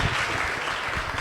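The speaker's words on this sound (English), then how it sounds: "let's give her a round of applause" An audience applauds a debate speaker named Sydney at an event on the existence of God, a dense, even patter of clapping close by with no talk over it.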